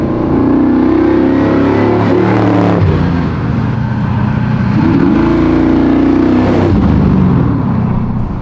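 A custom LS-powered Chevy Bel Air resto-mod with its V8 revving loudly and close, the engine note swelling and dropping in two long pulls over a steady rumble, with no talk.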